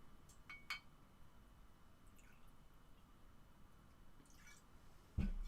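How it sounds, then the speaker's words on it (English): Ice goes into a cocktail shaker: a few faint clinks early on, a quiet stretch, then one louder knock of ice against the shaker near the end, with no talk. "I am going to put some ice in my shaker before I pour the rum in."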